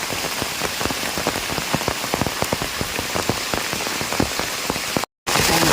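Heavy rain pours down on a forest in Mae On district, Chiang Mai, a dense, loud, steady patter of drops hitting leaves and ground, cut off by a brief dropout near the end.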